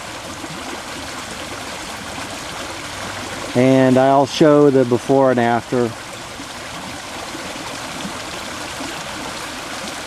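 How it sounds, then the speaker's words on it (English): Sediment-laden water flows steadily from a culvert into a tributary creek, a constant rushing stream outdoors, with someone briefly speaking over it midway. "Clearly sediment, once again, being discharged into the trib that flows directly into Third Creek."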